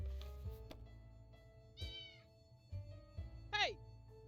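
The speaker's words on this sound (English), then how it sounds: "We got a cat." A cat meows a few times, short rising-and-falling cries standing out between bursts of excited talk and room noise in a home.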